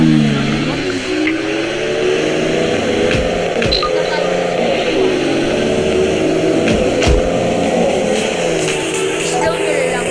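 A car's engine drones steadily in a video game, revving and shifting pitch continuously while a person talks over it.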